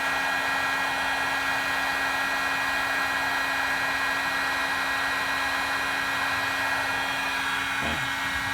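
A heat gun or hair dryer blows hot air beside a cardboard rocket body tube, a loud, steady whooshing drone with a constant hum that runs unbroken for several seconds, briefly disturbed near the end.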